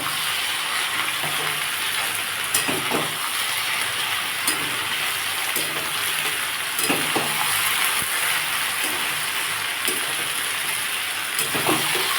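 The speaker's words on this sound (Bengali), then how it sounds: "দেখুন বন্ধুরা আমার আলুটা অনেকটা ভাজা হয়ে গেছে" Potatoes and onion fry steadily in a pan at home, giving a continuous close sizzle with scattered clicks and scrapes from stirring throughout.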